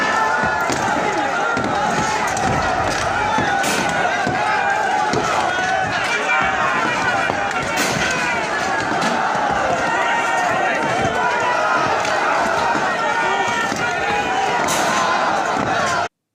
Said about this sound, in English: a violent religious mob has set fire to a Hindu temple in Pakistan's Khyber Pakhtunkhwa region and attempted to tear it to the ground.